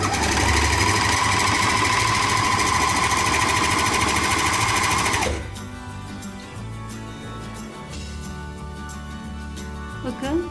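Janome TR3000 overlock machine running a test stitch, a fast loud steady mechanical whir for about five seconds that then stops, leaving quieter rustling and faint handling sounds.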